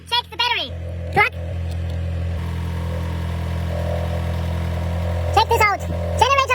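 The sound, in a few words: Mercedes car engine started and running after alternator replacement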